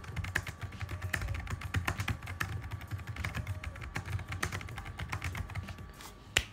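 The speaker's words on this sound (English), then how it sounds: "let's just type some random stuff" Fast typing on the cramped keyboard of a cheap $15 netbook, a close, continuous patter of light plastic key clicks with no talking, ending on one sharper tap.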